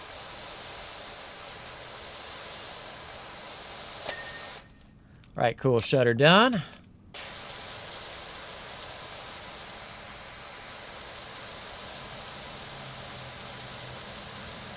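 Pressure washer spraying in PowerWash Simulator 2, a steady loud hiss that runs continuously, briefly cutting out while someone speaks, then resuming.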